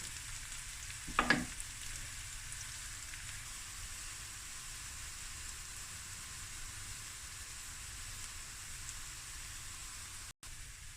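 Onions frying slowly over low heat for pilau rice give off a steady, soft sizzling hiss throughout, broken once early by a short clatter of stirring; no one speaks.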